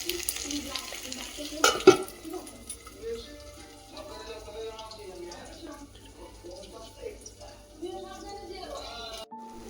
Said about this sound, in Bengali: বেগুনটা আমরা সব এক এক করে ভেজে নেবো